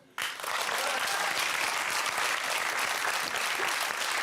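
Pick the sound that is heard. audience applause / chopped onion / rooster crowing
audience applause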